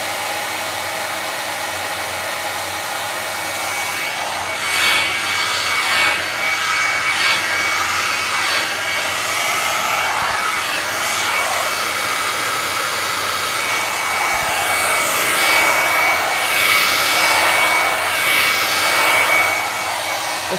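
A hair dryer blows steadily on someone's hair, a constant close airy roar that swells and dips slightly as it moves, with no talking over it.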